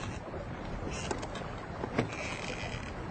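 A traditional felucca sailing boat on the Nile, heard as a steady wash of water and wind rushing past the hull, with soft creaks and splashes on the open river and no talking.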